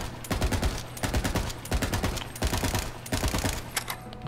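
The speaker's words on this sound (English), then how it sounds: "So I'm just going to hold down fire and not control recoil at all and burst." Sustained full-auto bursts from a Dahl assault rifle in Borderlands 3, rapid close gunshots in several long strings separated by short pauses, with no talking.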